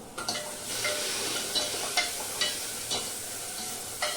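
Masala roasting in a pan, a steady close sizzle with intermittent scraping strokes of a spoon stirring roughly every half second, no voices.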